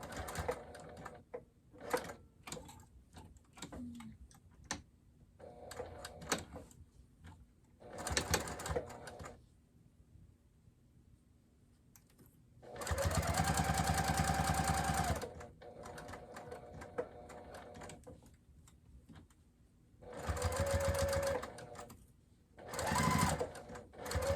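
A home sewing machine stitches a thick fabric coaster at a longer stitch length, in several bursts of steady rapid whirring separated by pauses, with one long run and shorter back-and-forth stitching runs, close and fairly loud.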